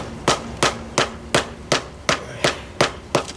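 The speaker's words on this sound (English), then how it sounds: "hammer it down." Steady hammer blows drive stone steps into place, about nine evenly spaced sharp knocks with short ringing decay, close up and loud.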